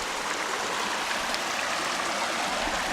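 A very small outdoor waterfall pours in a continuous, dense rushing splash, steady and close, with no voices over it.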